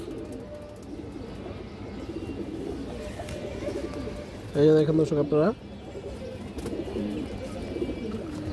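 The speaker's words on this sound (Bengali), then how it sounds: "খুব সুন্দর একটা কবুতর" Large pigeons coo softly in a loft, a low continuous burbling throughout, while someone talks loudly over them for about a second.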